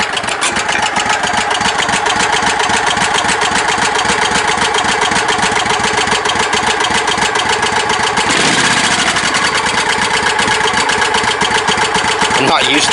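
A tow rig truck's engine idles low and steady nearby, a continuous rumbling drone with a brief surge partway through.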